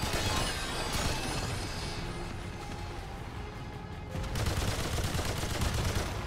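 Dense, sustained gunfire in Remnant 2, a steady loud barrage with a short lull before heavier shooting resumes near the end.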